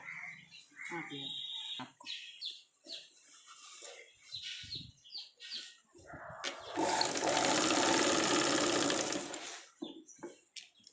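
A sewing machine stitches a Punjabi dress top in a sustained loud run of several seconds midway, preceded by brief starts and stops and surrounded by a person talking.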